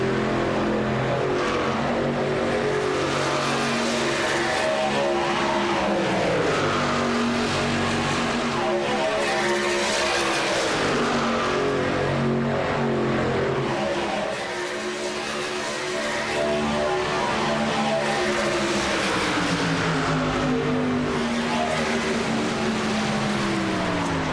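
Race cars in a contender series event roar past on the track one after another, with engines rising and falling in pitch as they pass, loud and steady with no speech.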